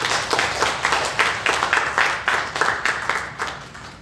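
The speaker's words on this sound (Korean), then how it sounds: "우리 박수로 축하하고" A church congregation claps during a Sunday service, a brisk, even patter of many hands in a reverberant hall, moderately loud and continuing for several seconds.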